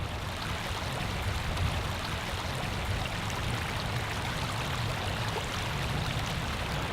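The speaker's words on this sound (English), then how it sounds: "This is the Little Grey River," The Little Grey River in New Zealand flows in a steady, broad rush of water, constant and unbroken, close by, with no voices.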